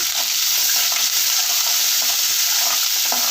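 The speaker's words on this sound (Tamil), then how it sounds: "இப்போ வெங்காயம் சேர்த்துக்கலாம் இப்போ வந்து ரெண்டு ரெண்டு வரமிளகா சே பச்சை மிளகா சேர்த்துக்கலாம் இப்போ நல்லா வதக்கிடலாம்" Onion and green chillies sauté in hot oil in a pan, giving a steady, close hiss and sizzle with faint crackles throughout and no talking.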